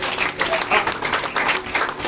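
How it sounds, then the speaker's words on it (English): Applause for a student at a high school youth event, a room of hands clapping steadily and fairly close for about two seconds. "Please give him a round of applause"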